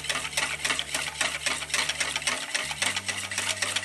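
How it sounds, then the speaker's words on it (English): A whisk beats a milk mixture in a saucepan while custard for cream puffs is made, producing quick, rhythmic scraping and clicking strokes, close and steady over a low background hum. "while constantly whisking."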